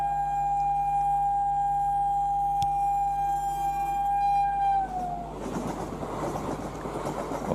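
An Indian high-speed EMU train sounds a long, steady horn, then rushes past in a loud rolling rumble with rattling wheels. It plays back from a video.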